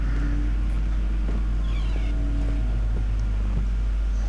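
A cat meows indoors in a room, a few faint cries against a low steady hum from the game Amnesia: The Dark Descent.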